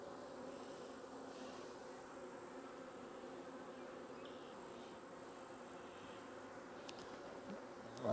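Honey bees hum around nuc boxes they have outgrown, a faint, even buzzing of many insects that holds steady throughout, with nobody speaking.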